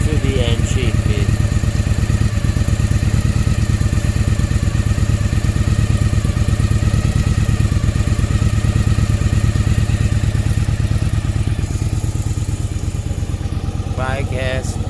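A Yamaha Virago 1100 cc motorcycle engine, with freshly overhauled carburettors, idles steadily and loudly up close, with a constant low rumble and faint clattering throughout.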